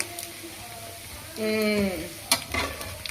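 Chicken skin frying in its own rendered fat, a soft crackling sizzle with a brief whine of speech-like tones midway and a sharp clatter near the end.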